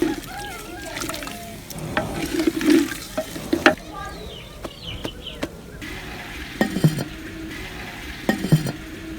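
Meat being stirred in a pot with salt, black pepper and turmeric for Peshawari namkeen gosht, giving soft irregular scraping and wet shuffling at close range, with a few sharper clacks and a light sizzle underneath.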